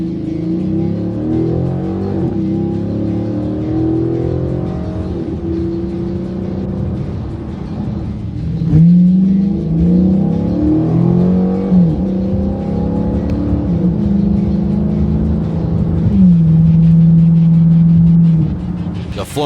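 Interior cabin sound of a Dodge Challenger SRT8 Hemi, first on the factory exhaust and then on a Flowmaster American Thunder catback, with a deep engine drone that rises through revs and gear changes, loud and steady throughout.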